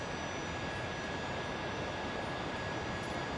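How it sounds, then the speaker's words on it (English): Vertical engines of a V-22 Osprey firing up in a flight simulation game, heard as a continuous broad engine roar topped by a faint steady whine, unchanging in loudness with no voices. "Vertical engines are now firing up."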